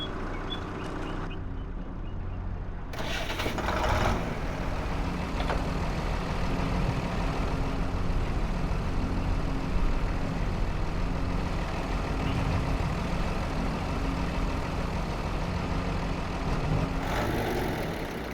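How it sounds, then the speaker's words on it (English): A farm tractor's engine runs steadily while the machine is moved, a continuous loud low rumble with a brief shift in tone early on, close and with no talk. "gotta move the tractor"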